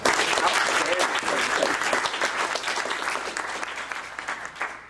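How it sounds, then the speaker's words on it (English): An audience at a specialty workshop gives a round of applause, loud, dense clapping that gradually thins out, with voices talking over it. "can we give Mark a round of applause?"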